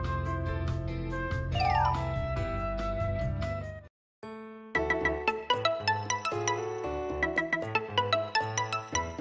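A phone in the Idolmaster Starlight Stage game rings on and on with a melodic electronic ringtone. The tune plays, cuts out for a moment, then starts over, loud and unaccompanied by speech.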